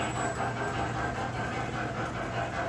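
An American Flyer Northern model locomotive with PS3 sound running on a track layout, giving a steady, dense mechanical rumble and whir that stays constant throughout, close and moderately loud.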